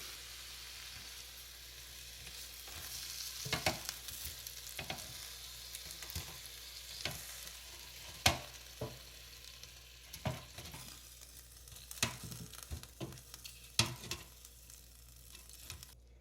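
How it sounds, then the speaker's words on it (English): Boneless country-style pork ribs in hoisin sauce sizzle quietly in an air fryer basket, with scattered clicks and knocks as the pieces are turned over and spaced out. "There we go, we turn them over."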